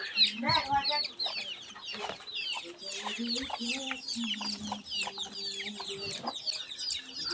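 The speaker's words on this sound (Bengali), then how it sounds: "অলরেডি মোরগ নিয়ে নিলাম আমার মোরগ মুরগির জন্য মোরগ দরকার" A rooster clucking and calling close by among other chickens, busy overlapping clucks and squawks over a quiet outdoor background, with no clear talking.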